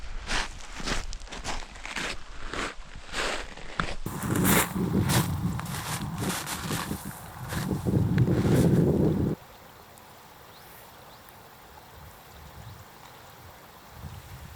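Strong wind gusting by a river, roaring and buffeting loudly for about nine seconds with some rhythmic thumps early on, then dropping abruptly to a much quieter steady rush.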